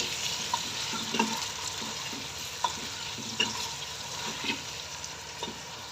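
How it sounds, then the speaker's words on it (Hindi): Chicken pieces, 750 g for a pulao, sauté quietly in a pan with a soft, steady sizzle and occasional light clinks and scrapes of stirring. "अच्छे से चिकन को 3 से 4 मिनट हम भून लेते हैं।"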